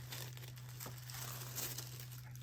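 Louis Vuitton tissue paper crinkling during a men's Louis Vuitton x Kusama unboxing, a soft, continuous rustling and crackling close by, fairly faint over a steady low hum, with no talking.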